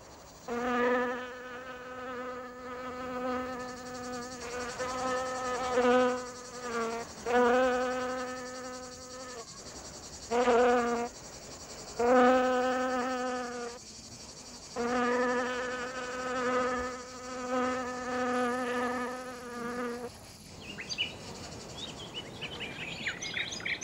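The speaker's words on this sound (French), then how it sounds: "Les guêpes et les mouches ne savent plus où donner des mandibules et de la trompe." A swarm of wasps and flies buzzes in repeated droning bursts of several seconds each, close and fairly loud, with brief pauses between passes.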